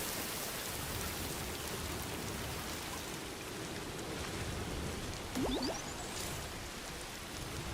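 Steady, dense rainfall from timefall in the game Death Stranding 2, a continuous even hiss with a brief chime-like tone partway through, no talking.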